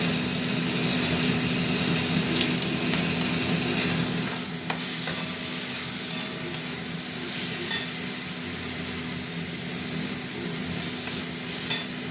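Spice paste sizzles and fries steadily in a pan for egg curry, a continuous close crackle with soft scraping of stirring and a few brief clinks, no voices.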